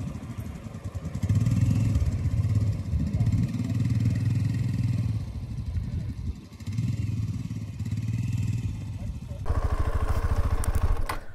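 Adventure motorcycle engine rumbling steadily over an uneven, hard dirt road, with the throttle rising and easing in surges and a brief dip midway; the engine sounds close and loud, and a voice talks over it.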